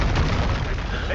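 A Confringo spell blast in Hogwarts Legacy, a dense, sustained booming burst filling the short moment, loud and close with game noise around it.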